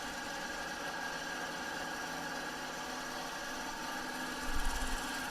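An embroidery machine sews continuously, a steady mechanical buzz with fast, even stitching rhythm at close range, with a brief low thump near the end.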